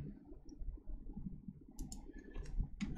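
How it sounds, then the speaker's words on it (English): Computer mouse clicks while digitizing a shape in embroidery design software, a few soft, quiet clicks spaced apart over a low background murmur. "I started with a right click"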